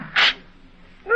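A single sharp sneeze bursts out in an old-time radio drama, close and loud, followed by a short quiet gap before a voice begins to speak.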